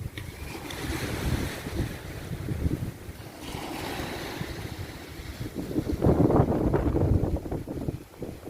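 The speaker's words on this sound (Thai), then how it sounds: "เพราะว่าคลื่นสูงมาก" High sea waves surge and break at Bang Boet beach in Thailand, a loud rolling wash with gusty wind buffeting the microphone, building to a heavy crash near the end.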